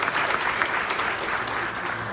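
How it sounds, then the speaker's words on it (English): Steady applause from a luncheon audience at a leadership showcase, dense clapping filling the whole moment at a constant level with no break. "I love the cheap applause."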